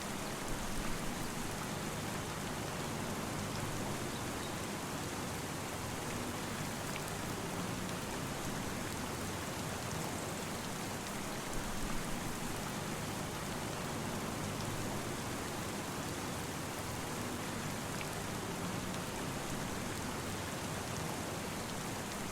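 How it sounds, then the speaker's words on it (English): Rain falls steadily in Farming Simulator 25, a dense, even hiss of downpour lasting throughout without breaks or voices. "let's get past the rain"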